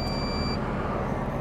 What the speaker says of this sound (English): Beeps going off.